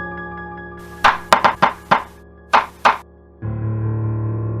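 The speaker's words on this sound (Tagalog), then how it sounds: "ay kumatok ako sa kwarto nila nanay" Someone knocks on a bedroom door at night, a quick series of sharp raps in two groups, loud and close, then a steady low hum takes over.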